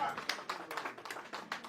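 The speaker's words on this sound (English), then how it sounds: "Everybody clap for them" An audience applauds at a global wealth and real estate summit in London: a dense patter of hand claps, moderately loud and close, with a voice speaking over the applause.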